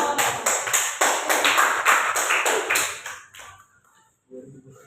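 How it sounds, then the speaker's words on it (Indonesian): A short burst of group clapping, lively and rhythmic, lasting a few seconds before fading, followed by a faint voice. "Tepuk tangan dulu."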